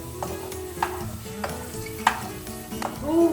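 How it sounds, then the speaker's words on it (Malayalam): Grapes sizzle steadily in hot oil in a pan while a spoon stirs them, with several distinct scraping strokes over the frying hiss and a louder stir at the end. "ഞാൻ ഇതുവരെ മുന്തിരി വറുത്തിട്ടില്ലല്ലോ ഗൈസ്."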